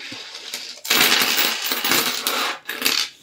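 Euro coins being counted and dropped onto a hard surface, a dense run of close metallic clinks and jingles clattering together for a few seconds with a brief pause, no talking.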